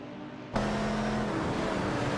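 Race cars in a racing video game, including a Porsche 917 and a McLaren M8C, a sustained steady engine drone that starts abruptly and holds at an even level.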